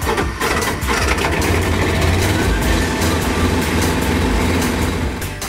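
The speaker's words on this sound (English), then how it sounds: "you can also manually operate the generator to do any maintenance or testing." A truck-mounted generator runs with a loud, rough, steady engine chug and clatter that holds throughout without voices.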